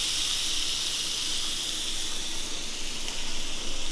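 Steak sizzles steadily in a grill pan on the stove, a continuous close hiss and crackle of searing fat that holds level throughout with no talking.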